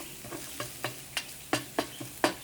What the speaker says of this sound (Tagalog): Lagyan natin sibuyas. Ayan, gisa-gisahin lang po natin.